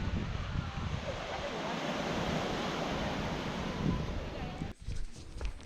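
Strong ocean surf on a Caribbean beach near Palomino and Tayrona, a steady broadband roar of breaking waves mixed with wind buffeting the microphone, with a brief dip near the end.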